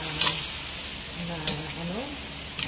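Chicken and tomatoes sizzle in a frying pan while a spoon stirs them, with a faint frying hiss throughout, a few soft scraping stirs, and a voice talking quietly underneath.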